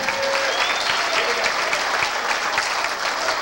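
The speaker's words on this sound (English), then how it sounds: "Come on, ladies and gentlemen, give them a big round of applause," Wedding guests give the newlyweds a brisk round of applause, a dense, even patter of many hands clapping nearby for the whole short stretch, with light crowd murmur underneath.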